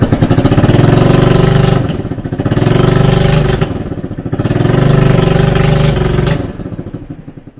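A 1996 Honda CN250 Helix scooter engine idles close by, a steady loud putter that swells and eases in a few gentle waves over several seconds before dropping off at the end.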